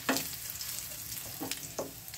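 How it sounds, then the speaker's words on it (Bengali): Grated garlic lightly frying in mustard oil keeps up a soft, continuous sizzle, broken by a few brief stirring clinks and scrapes, close but fairly quiet with no talking. "রসুনটা আমার হালকা ভাজা হয়েছে।"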